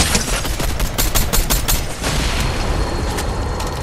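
Rapid bursts of gunfire in the video game Fortnite, a dense volley of close, loud shots in the first two seconds, then thinner scattered shots under continuous game noise.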